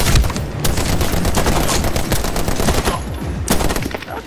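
Dense, loud automatic gunfire from the first-person shooter Medal of Honor Warfighter, rapid bursts of shots hammering almost continuously with no voices over them.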